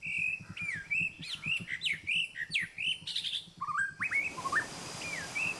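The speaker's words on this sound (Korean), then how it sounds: "새소리 들리나요?" Birds chirping in the early morning at Erawan waterfall in Kanchanaburi, Thailand: several birds trade bright whistles and rapid tweets, close and clear, over a steady low rush of falling water.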